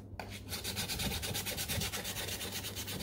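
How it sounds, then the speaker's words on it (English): Sandpaper rubbed quickly back and forth over the toe box of custom Burberry sneakers, a steady close rasping rhythm of rapid even strokes, no talking. "I'm gonna use the sandpaper to sand the toe box here"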